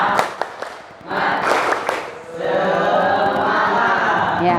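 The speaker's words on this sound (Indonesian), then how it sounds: "kita tepuk semangat dulu ya. Tepuk semangat." Indonesian schoolchildren doing a rhythmic classroom clapping chant, tepuk semangat, with bursts of patterned claps and shouts, followed by a sustained stretch of group clapping and chatter, fairly loud and close.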